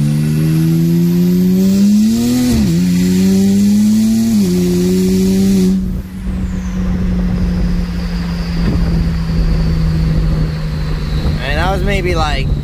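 A BMW 335i turbo car accelerates at partial throttle, with a loud, close engine note that climbs in pitch in stages over the first six seconds, then settles into a steady drone with a faint high whine.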